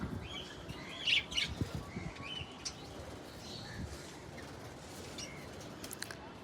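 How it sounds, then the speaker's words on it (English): Pet budgies in a breeding cage chirping and twittering, several small overlapping tweets and squawks in short bursts over a soft background hum, close and fairly quiet. "I'm here to show you my Budgie birds collection"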